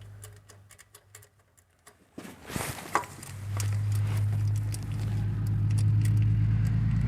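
A truck driving past outdoors, starting as faint ticks and rustles, then a rising swoosh as it passes nearby, followed by a steady engine rumble that grows louder toward the end.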